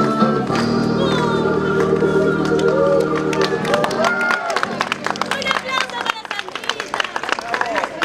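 A crowd at an airport claps and cheers for Sandrita over music with sustained tones, the clapping growing sharper and more scattered toward the end.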